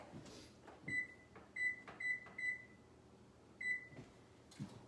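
An electronic kitchen oven gives a series of short, quiet high-pitched beeps, about six in an uneven rhythm, as its controls are pressed to preheat to 375 degrees, with soft handling noises around them.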